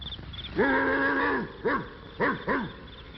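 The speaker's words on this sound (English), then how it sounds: "out from behind a bush jumped Major, one of the biggest, most ferocious hound dogs in the forest" A big, ferocious hound dog in a 1960 Mel-O-Toons cartoon gives one long, howling bark followed by three short, gruff barks, loud and close.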